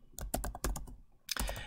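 Rapid keystrokes on a computer keyboard as a web address is typed, a quick close burst of clicks, a short pause, then another flurry of taps.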